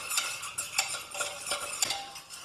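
Flour being stirred into melted butter in a pan to make a roux for a fish pie, heard as a run of quick, close scraping and tapping utensil strokes in an irregular rhythm, with no talking.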